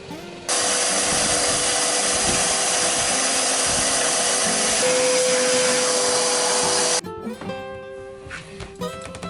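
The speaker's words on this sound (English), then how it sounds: "just ran the sander over to clean it up a little bit" A power sander smoothing fiberglass on a boat during dripless shaft seal work: a loud, steady whine and hiss running continuously for several seconds, then cutting off abruptly, leaving quieter rattles and clunks.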